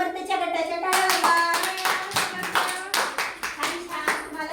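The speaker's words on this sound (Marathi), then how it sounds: "समर्थच्या गटाच्या टाळ्या." Children at an Anganwadi clap together for a group, giving a quick run of sharp, rhythmic claps close by, mixed with a rhythmic chant or singing voice over them.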